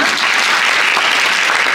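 An audience at a government seminar on support programs for small and venture businesses applauds, filling the room with loud, dense, continuous clapping and no speech over it.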